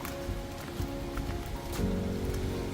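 Light rain patters softly and steadily for a few seconds over a rice paddy field in Kolhapur, with a faint low hum underneath and no one talking.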